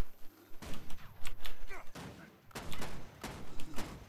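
Rifle shots from a warrior character in the Guild Wars 2 beta, several sharp, loud reports in an uneven sequence with game sounds filling the gaps between them.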